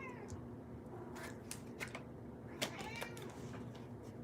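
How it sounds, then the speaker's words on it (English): A domestic cat meows indoors, faint and near, several short cries scattered over a quiet background while a person talks at low level. "My cat is just meowing."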